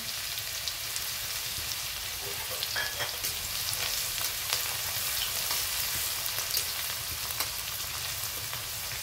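Coarsely pounded garlic with cumin seeds frying in hot oil in a pan, a steady dense sizzle with crackling pops throughout, close and continuous with no talk.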